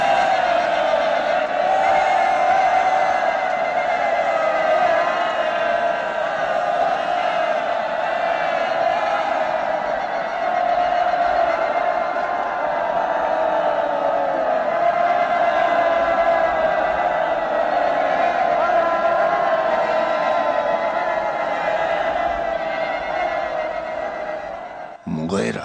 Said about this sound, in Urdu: بجاؤ تالیاں، جشن مناؤ، خوشیاں مناؤ